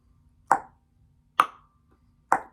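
A mouth makes three crisp, evenly spaced clicks about a second apart, imitating a metronome ticking out a click track; each tick is short and dry against near silence.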